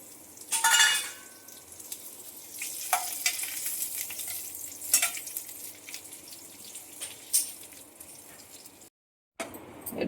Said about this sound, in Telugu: డేట్స్ మొత్తము గీలో ఫ్రై చేసుకున్నాం